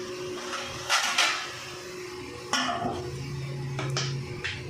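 A metal lid set onto a cooking pot, a few close clanks and scrapes of metal on metal at irregular moments against a low kitchen background hum.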